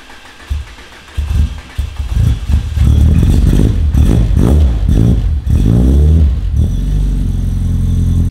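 An Audi car engine starting and idling while it warms up, a loud, steady rumble with a few revving surges early on, heard close with no talking.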